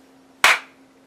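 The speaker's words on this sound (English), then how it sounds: "Listen to this clap." A single sharp hand clap, loud and close, with a short fading tail after it and otherwise near-silence with a faint steady hum.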